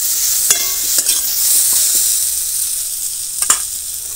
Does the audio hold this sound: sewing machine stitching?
no